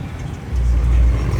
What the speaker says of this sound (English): then we got Grant pulling up in the upgraded Turbo Eco Boost